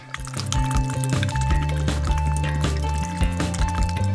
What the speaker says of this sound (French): bien touiller le flacon pendant 30-40 secondes